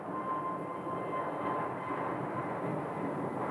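An American Airlines airliner lands at Phoenix airport, a broad steady jet roar heard at a distance without pause, with no voices.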